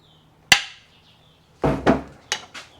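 Several sharp metallic taps from a small brass hammer on a Yamaha HS1 90 twin crankshaft, one isolated strike and then a quick cluster of three or four, close and fairly loud.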